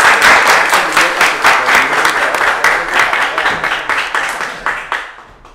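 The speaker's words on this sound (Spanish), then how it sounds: "y un aplauso, por favor" An audience applauds at a living-room tertulia, a dense, steady patter of many hands clapping close by that starts strong and gradually thins and fades toward the end.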